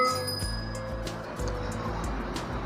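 A small handheld puja bell rings during a Satyanarayan puja at a temple, with clear metallic tones that ring out and fade over a low background hum.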